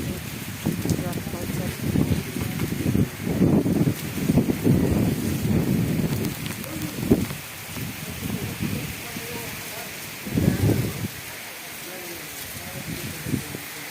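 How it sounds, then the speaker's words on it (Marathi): Heavy monsoon rain driven by strong wind around a house porch makes a steady hiss with gusty swells, while a person talks at close range over it. "मस्त असा पाऊस चालू आहे."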